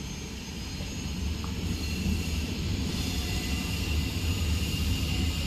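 Steady, loud rumbling drone of a locomotive running at full throttle in Train Simulator, a continuous engine roar with broadband noise holding level throughout, no talking.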